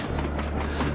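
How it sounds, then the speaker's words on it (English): A train in the video game Sly 2 rumbles past, a steady dense roar with a rhythmic clatter running through it. "I'm gonna hitch another ride on the train."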